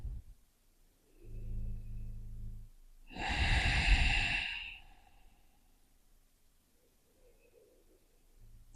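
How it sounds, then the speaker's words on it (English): Slow breathing in and out through the nose during a guided yoga practice: a soft inhale, then a louder, longer exhale, quiet and close with pauses between. "it's just beautiful breathing in and out through your nose"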